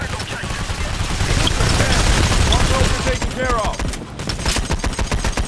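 Loud, sustained automatic AK rifle fire in the video game Payday: The Heist, a dense stream of shots with brief pauses and some background voices.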